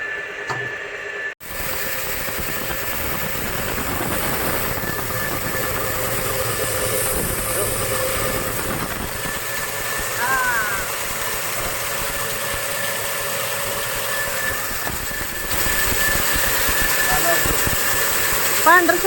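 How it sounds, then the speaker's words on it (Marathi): A village flour mill grinds chickpeas that were soaked and then dried for two days, producing a loud, steady mechanical drone with rumble and rattling that runs unbroken for nearly twenty seconds. "आता आपण गिरणीतून भरडून घेऊया"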